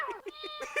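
A cat meows in a dark Alice horror video game, a short plaintive call over a tonal game soundscape, close and clear with no talk.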